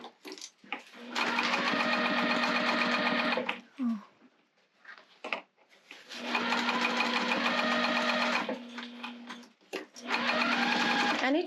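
A sewing machine stitches fabric in two long bursts and a brief third one, a steady, close, rapid mechanical whir with pauses and small clicks between runs.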